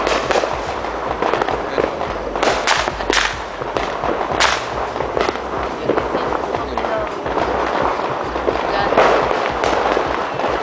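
A New Year's fireworks display crackles and pops in dense, continuous volleys with sharp bangs scattered throughout, loud and close, while voices talk and cheer over it.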